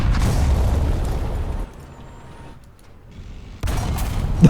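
Artillery explosions in the tank combat video game War Thunder: a loud rumbling blast that fades over a couple of seconds into near silence, then a second heavy boom arrives.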